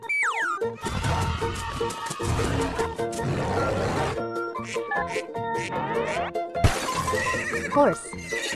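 A loud, shrill horse whinny quavers up and down, and a second, shorter whinny follows near the end.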